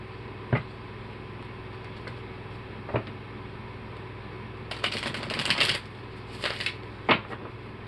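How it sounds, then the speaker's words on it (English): Soft riffling and flicking of tarot cards being shuffled in short bursts, with a few sharp taps between them, close by. "Let me just shuffle."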